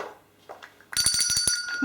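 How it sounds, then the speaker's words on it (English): A notification bell sound effect chimes in after a quiet start, a bright, rapidly pulsing ring that fills the second half, loud and close. "I promise I will ring that notification bell"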